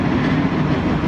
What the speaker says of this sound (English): There's my train over there coming, so I gotta get out of here.